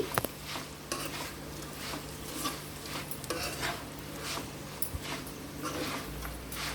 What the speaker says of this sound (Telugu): ఈ పొడి అనేది ఈ దొండకాయకి లైట్గా పట్టే వరకు ఒక ఐదు నిమిషాలు ఇలా మిక్స్ చేసుకొని కుక్ చేసుకోవాలి